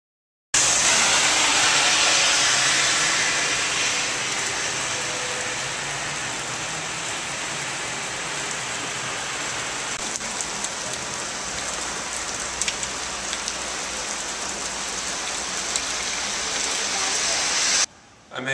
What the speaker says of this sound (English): As soon as I cross over the bridge to where my place is, it's just a little bit drizzling.